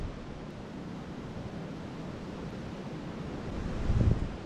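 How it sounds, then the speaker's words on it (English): Strong wind gusts through the woods on a hike at Ryerson Woods in Illinois, a continuous broad roar with microphone buffeting that swells toward the end, with no talking. "The wind has been really nice. It's added to this because it's strong enough to make some good noise, but not strong enough to be scary."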